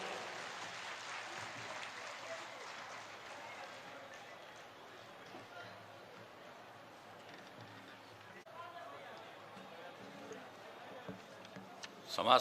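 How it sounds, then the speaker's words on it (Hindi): Faint applause ripples through a large crowd at a public event held for the Bihar Chief Minister during a social reform tour, heard from a distance with low murmuring and shuffling underneath. "अनेक अनेक तालियों से पुनः माननीय मुख्यमंत्री जी का स्वागत करें उद्बोधन हेतु।"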